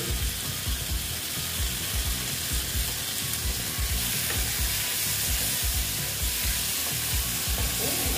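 Loud, continuous sizzling of pointed gourd frying in a pan, with scraping and clattering as it is stirred throughout.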